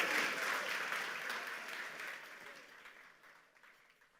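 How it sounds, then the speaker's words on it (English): Audience applause at a New Year's banquet talent show, a broad wash of clapping that starts loud and gradually fades over about four seconds, with no talking. "please give a round of applause as we present to you our final talent show act"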